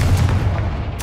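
A Confringo blasting spell bursts in the video game Hogwarts Legacy, a dense, booming low-end blast that rumbles through the whole short moment, with a sharper crack flaring near the end.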